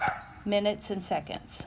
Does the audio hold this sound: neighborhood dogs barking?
yes